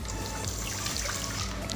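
Water rushes from a newly repaired urinal flush valve in a steady, close hiss of flow that lasts the whole moment without a break.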